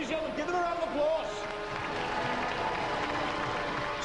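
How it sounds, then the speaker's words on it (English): Studio audience applause at a Robot Wars robot-combat show, dense and steady for about four seconds, with crowd noise and some voices mixed in. "Ladies and gentlemen, give them a round of applause."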